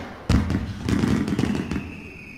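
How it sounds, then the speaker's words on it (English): In a Crash Bandicoot game scene, a box of fireworks goes off with a sharp initial bang followed by a rapid crackling burst of pops and thuds that fades out. "be careful of the box of fireworks"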